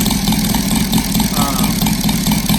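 A Saito FG-60 R3 model aircraft gasoline engine with an upgraded intake runs steadily, a loud, close, continuous buzzing drone with a rapid pulsing firing rhythm throughout.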